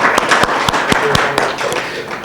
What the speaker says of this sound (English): Thank you very much. By way of clapping.